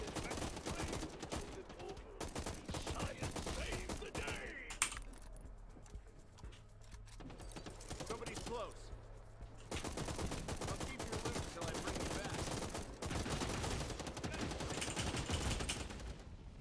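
Gunfire in the video game Hawked comes as rapid bursts of close, clattering shots that fill most of the stretch, breaking off briefly in the middle before resuming.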